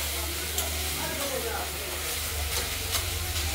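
Fish ghonto (bharali fish) with mustard seed tempering is stirred in a frying pan, a soft steady sizzle under scraping strokes with a low constant hum beneath, no talk.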